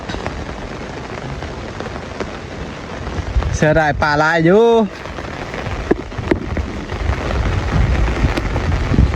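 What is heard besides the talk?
heavy rain falling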